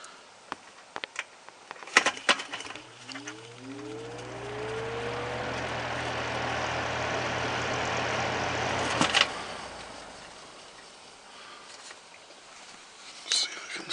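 A Lasko box fan motor starting up, giving a low electrical hum with rising whining tones, then a steady whooshing of moving air that stops with a click, framed by small handling knocks and faint whispered talk.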